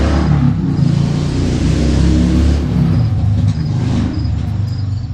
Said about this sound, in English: somebody on a loud motorcycle.